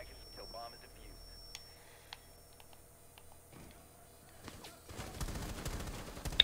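Gunfire in a counter-terrorist shooter video game: scattered faint shots and clicks, then a denser burst of rapid firing near the end, heard fairly quietly.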